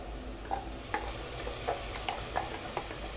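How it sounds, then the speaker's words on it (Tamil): Tomato and mint paste is stirred into soya chunks in a hot pan, with a soft sizzle beneath a steady series of spoon scrapes and taps, heard close with no talking. "தக்காளி, புதினா, இந்த பேஸ்ட் எல்லாத்தையுமே நம்ம போட்டு நல்லா மிக்ஸ் பண்ணிக்கலாம்"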